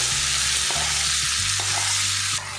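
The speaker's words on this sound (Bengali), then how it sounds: "এবার এর মধ্যে মেখে রাখা মসুর ডালটা দিয়ে দেবো।" Mashed masoor lentils hit hot oil with lightly fried onion and garlic in a pan, giving a loud, continuous close-up sizzle and frying hiss with faint stirring, and no voices.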